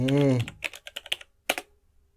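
Someone types an email address into a computer keyboard; a short burst of voice comes first, then a quick run of crisp key clicks, a brief pause and a few final taps.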